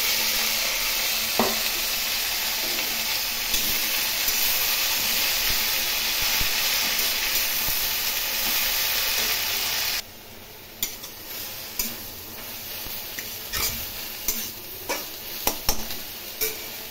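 Chopped red amaranth greens go into a pan of frying garlic. A loud, dense sizzle fills the first ten seconds, then softens into quieter frying broken by scattered stirring scrapes and clinks.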